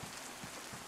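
Steady rain in the zombie survival game DayZ, a dense, even hiss that continues throughout with faint low thumps underneath.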